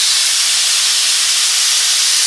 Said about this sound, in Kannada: 2 ಕುಕ್ಕರ್ ವಿಜಿಲ್ ಸ್ಟಾರ್ಟ್ ಆಯ್ತು.